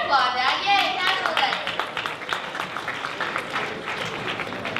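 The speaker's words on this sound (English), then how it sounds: "Yeah, you can applaud that." Audience applause at a school morning meeting, a burst of clapping with some cheering voices that starts strong and continues steadily, with people talking over it.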